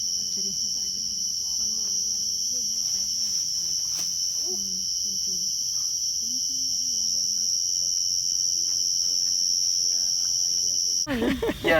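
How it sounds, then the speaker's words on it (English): Crickets chirp in a steady, continuous high drone through a night forest on Penang Hill, with faint lower insect calls beneath and a brief rustle at the end. "The sound of the night. The cricket actually."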